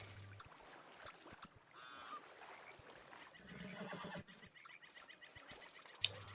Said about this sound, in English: geese spawn in this pond while you're doing it